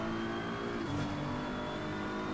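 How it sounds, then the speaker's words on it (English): Race cars in a sim racing endurance event at Watkins Glen accelerate steadily out of corners, a dense layered engine drone with a sustained high whine running throughout, no talk. "You can pretty much discern how these cars are taking these corners by how they sound on the throttle on exit here."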